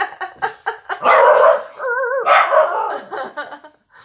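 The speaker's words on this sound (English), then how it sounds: "Your dogs are barking at my mail lady too?" Dogs at home bark at a mail carrier: a quick run of sharp, close barks, then a longer whining yelp and more barking, loud and near.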